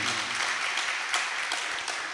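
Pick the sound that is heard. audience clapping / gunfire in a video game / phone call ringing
audience clapping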